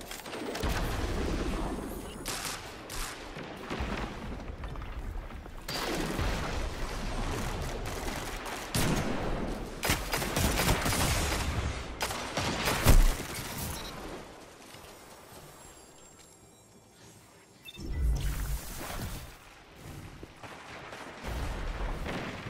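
Rapid bursts of gunfire and explosive blasts from Destiny 2 player-versus-player combat, dense and continuous with heavy booming impacts and a brief lull near the end before the shooting picks up again.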